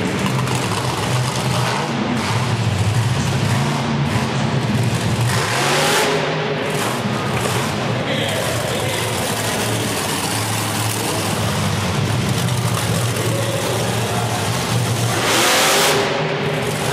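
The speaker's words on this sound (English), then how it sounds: "We'll see what he can do in that brand new Ford F-150 Raptor Bigfoot 18." Ford F-150 Raptor Bigfoot 18 monster truck engine roars loudly at a monster truck event, revving and surging continuously with rising and falling throttle over crowd noise.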